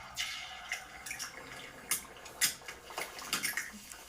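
Oil sizzles in a hot kitchen pan, a soft, steady crackle punctuated by sharper pops and spits at irregular intervals, close and fairly quiet, with no voices.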